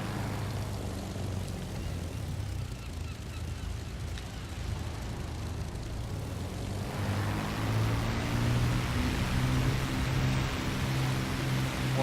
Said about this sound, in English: We're just going to do a quick takeoff and land from carriers.